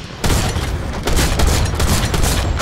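Gunfire from the video game Fortnite, played on mobile, sounds as a dense, loud burst of shots with booming impacts. It runs nearly continuously for a couple of seconds, close and heavy.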